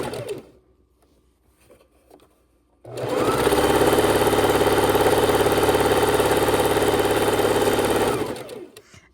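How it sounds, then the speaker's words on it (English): Quilt squares are stitched along a drawn line by a sewing machine, which starts after a few seconds of near quiet and runs in a fast, steady, close mechanical whir for about five seconds before stopping. "we're just following our drawn line with the tip of the foot"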